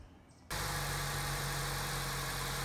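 A Chevy Cruze engine (2008–2016 model) starts up after half a second of quiet and then idles steadily and loudly nearby, with a constant low hum and no voices.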